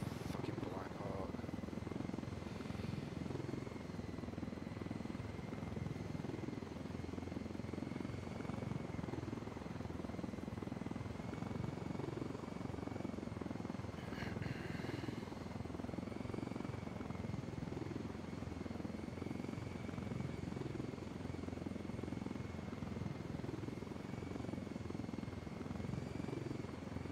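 A Black Hawk helicopter in Ghost Recon Wildlands drones steadily with a loud, continuous rotor and engine roar that fills the whole stretch and barely varies in level.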